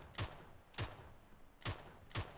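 Four sharp MK47 Mutant rifle shots fired from a prone position in PUBG, spaced irregularly across about two seconds, each a crisp bang with a brief tail and quiet gaps between.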